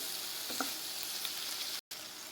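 Green chillies and other ingredients for a peanut mint chutney sizzle steadily in a pan, a close, even frying hiss with a few small pops and a brief stir, then a momentary cut to silence.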